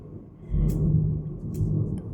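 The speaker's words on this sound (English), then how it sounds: "Can you hear the thundering?" Thunder rolls as a low, continuous rumble, swelling after a brief quieter start and lasting throughout, distant and steady, with a few faint higher sounds on top.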